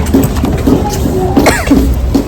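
A child's repeated coughs, several short bursts spaced through the moment at close range, with faint voices in the background.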